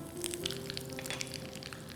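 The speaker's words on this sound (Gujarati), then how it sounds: "વઘાર થવા લાગ્યો છે." Mustard seeds, cumin and spices temper in hot oil for mango kadhi, a continuous soft sizzle with small crackling pops, fairly quiet and close, with no talking.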